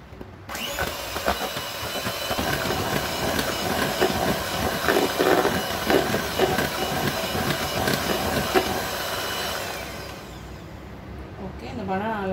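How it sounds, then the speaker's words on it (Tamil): An electric blender whirs steadily as banana is blended into wheat cake batter, a loud continuous grinding churn that runs for about ten seconds before cutting off, with a brief clatter afterward. "ஓகே, இந்த பனானா நல்லா பிளெண்ட் ஆயிடுச்சு."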